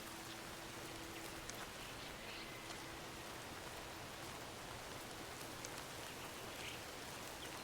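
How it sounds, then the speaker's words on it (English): Rainfall in the video game Horizon Forbidden West, a faint, steady hiss of rain spread evenly across the whole stretch, with no voices. "It is very rainy out today."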